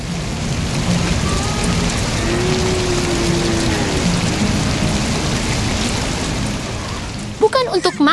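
Rain falls in an animated 3D cartoon with a red tractor and construction trucks, a loud steady hiss of downpour close by, with a brief voice near the end.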